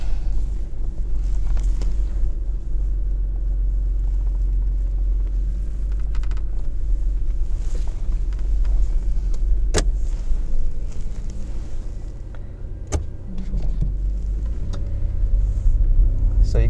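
A Toyota 4Runner driving on the road, heard from inside as a steady low rumble of road and engine noise with some wind, occasional faint clicks and knocks.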